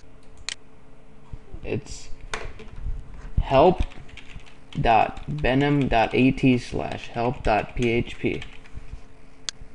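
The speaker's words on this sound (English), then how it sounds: "you're going to want to type in this website" Sparse, light tapping clicks from typing a web address on an iPhone 3G touchscreen keyboard, heard faintly between and under a man's close speech.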